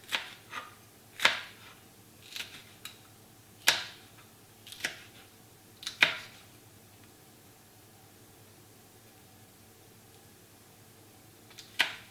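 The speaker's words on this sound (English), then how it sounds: "actually just cut it into nice slices" A knife slices mushrooms and peppers on a board, a handful of sharp, separate cuts in the first half, then near quiet with one more cut at the end, close and faint.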